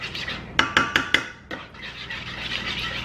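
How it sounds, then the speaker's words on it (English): A big spoon stirring scrambled eggs in a hot pot gives four quick metallic clinks in a row, then a softer knock and a steady scraping shuffle close by, with no talking. "Just keep stirring it and stirring it and stirring it. I'm using this big old spoon because it's a lot easier to stir it."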